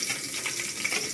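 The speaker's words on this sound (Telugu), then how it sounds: "అల్లం వెల్లుల్లి పేస్ట్ కొద్దిగా పచ్చివాసన పోయేంత వరకు బాగా ఫ్రై చేద్దాము" Ginger garlic paste frying over browned onions in a pan, a soft continuous sizzle and light crackle at moderate volume, with no talking.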